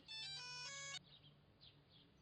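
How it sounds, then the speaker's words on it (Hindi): A mobile phone ringtone plays a loud, bright electronic melody for about a second, then stops, leaving faint room tone with small chirps. "एक तो ये इतने महंगे वाले फोन है ना, एकदम बजते रहते हैं और चुप ही नहीं होते"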